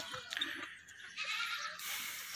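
A nanny goat that kidded about a month or six weeks earlier bleats on a farm, with a couple of wavering, nasal cries close by in a quiet setting.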